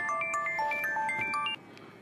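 An electronic phone ringtone for an incoming call plays a quick melodic beeping tune for about one and a half seconds, then cuts off into quiet room noise.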